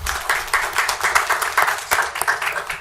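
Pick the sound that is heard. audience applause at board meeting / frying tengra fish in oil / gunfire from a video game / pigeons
audience applause at board meeting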